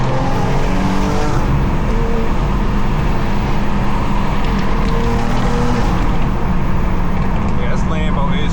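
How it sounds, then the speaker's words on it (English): A tuned BMW M4 G82 with a loud exhaust roars at full acceleration, a dense, continuous, very loud engine and exhaust blast heard up close, with faint speech and some tire noise mixed in. "Touching the gas pedal."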